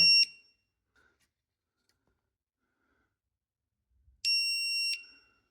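An iFlight YR50B drone finder beeper sounds a loud, steady electronic tone for under a second, followed by silence and then another sustained beep of similar length.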